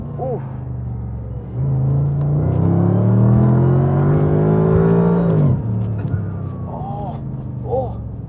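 A Mercedes SLR being driven, heard from inside as a deep engine rumble that climbs steadily in pitch under acceleration, then drops off sharply before settling back to a lower drone.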